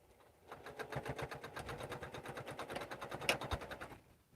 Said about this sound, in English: So we stitched that down.